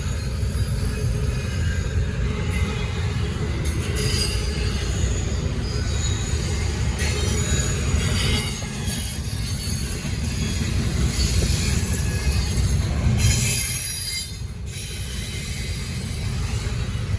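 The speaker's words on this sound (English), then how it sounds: "Nah, this train passed in time." A Norfolk Southern freight train rumbles past close by in Gaffney, South Carolina, heavy low roar with metallic wheel squeals and rattling cars running continuously throughout.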